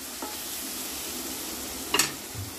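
Green chili curry being stirred in a kadhai after spices go in, with a steady frying sizzle throughout and a brief, sharp scrape of the spoon against the pan near the end.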